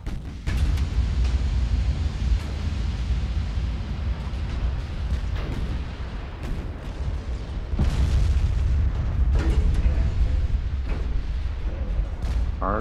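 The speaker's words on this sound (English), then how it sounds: "There's the torpedo." A torpedo explosion in the naval warfare game Ultimate Admiral: Dreadnoughts, heard as a series of heavy booms and blasts with rumbling low end, sustained and loud with several distinct bursts, no talking.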